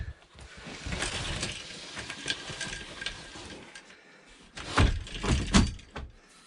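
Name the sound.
sliding shower door closing and latching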